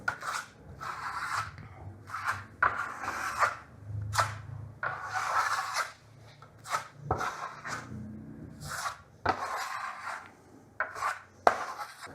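A steel trowel scrapes across Vasari Veneziano plaster on a wall in a quick pass, giving a series of short, soft rasping strokes with brief pauses between them, close and quiet, with nobody talking.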